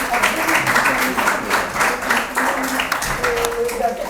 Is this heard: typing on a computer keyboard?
no